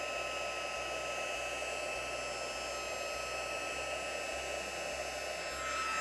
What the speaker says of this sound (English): And bring our heat tool around to the front, and I should see it start to move.